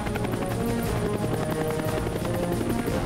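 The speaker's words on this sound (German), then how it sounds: "Wollt ihr immer schon mal mit dem Hubschrauber fliegen?" A rescue helicopter in flight, its rotor and engine noise a steady, loud, continuous drone filling the whole stretch with no talk over it.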